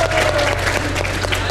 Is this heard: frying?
no